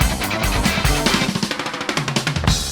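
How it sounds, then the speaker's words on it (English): Rapid rock drum fills rolling across toms and snare in quick, dense bursts, loud and busy, with cymbals washing over the rhythm. "The best way to describe that sound is listen to the drum fills in"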